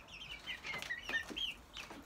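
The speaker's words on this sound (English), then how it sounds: "I'm here with some of my chickens." Chickens cluck and call softly inside their new insulated coop, a flock of hens making short, overlapping clucks and a few higher squawks, close by and steady.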